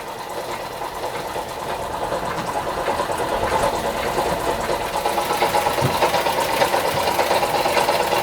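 A Doll & Co No. 56 1/2 model steam engine runs at low speed, giving a steady, rapid mechanical clatter and light chuffing that swells slightly as it goes, alone without talk.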